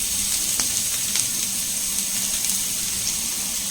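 Chopped onions frying in hot oil in a pan, a loud steady hiss and sizzle that carries on without a break, close and dense, with a few faint crackles.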